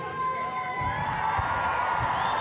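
A rugby stadium crowd in Waikato, New Zealand, still filling in for a Black Ferns versus USA match, keeps up a steady roar with shouts and whoops, loud and continuous throughout.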